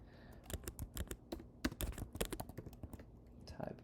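Rapid clattering keystrokes on a computer keyboard, close and uneven in bursts, with a faint whispered voice at times.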